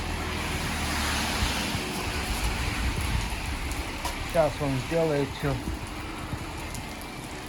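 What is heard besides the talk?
rain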